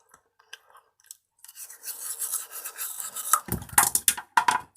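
Biting and crunching into food, a series of dry, rasping crunches that grow louder and denser after a near-silent start, close to the microphone with no talking.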